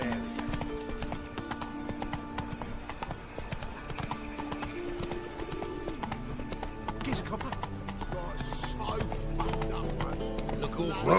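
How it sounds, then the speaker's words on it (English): Hoofbeats of the horse Roach clip-clopping at a gallop in The Witcher 3 video game, with a neigh and whinny, steady throughout under game music and character voices talking. "Whoa there, Roach."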